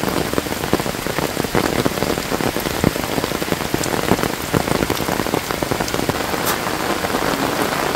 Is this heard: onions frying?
no